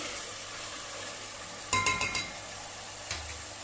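Chicken sautés in a pan under a soft, constant sizzle, with a quick burst of metallic clinks and scrapes from stirring midway and one more knock near the end.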